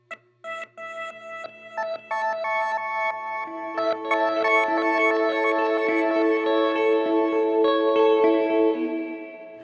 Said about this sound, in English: then it just goes fully into that reverse, that really glitchy